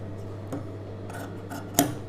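Scissors snipping away extra chudidhar fabric: a few separate crisp cuts, the last one sharpest, close by and clear over a low steady hum.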